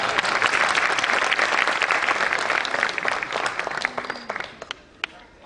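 An audience at a Jain sermon by Acharya Vidyasagar applauds: a thick crowd clap holds strong at first, then thins out into scattered last claps.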